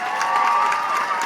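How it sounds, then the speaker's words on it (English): A crowd at a seal training show at Taronga Zoo claps and cheers for Murphy the seal, a short, steady burst of dense clapping from a large audience. "a big round of applause and a wave goodbye"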